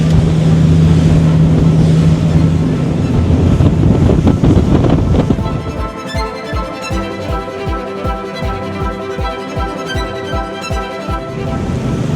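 A Prestige F 4.3 motor yacht cruises on the open sea, its engine drone mixed with rushing water and strong wind buffeting the microphone, which eases midway into a steadier, rhythmic hull-and-wave sound.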